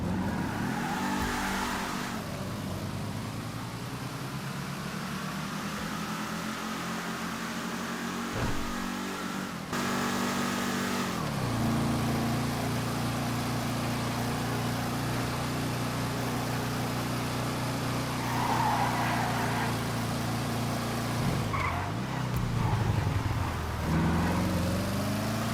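A two-door muscle car, the Taho coupe, driving on a test drive, its engine revving up and shifting through steady accelerating pulls, loud and close with no talk.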